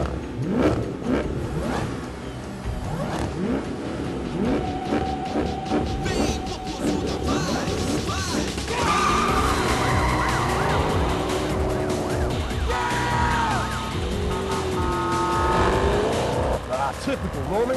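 Cars rev and race in a movie chase scene with police cars, engines roaring and tires squealing under dense music and effects, with talk mixed in throughout.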